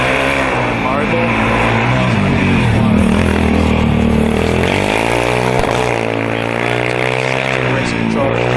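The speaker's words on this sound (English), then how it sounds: "I think he just stalled the engine, restarted, or trying to restart at the moment" A Formula Student race car engine is being restarted after stalling during an endurance session, its loud revving drone rising and falling close by throughout, with speech over it.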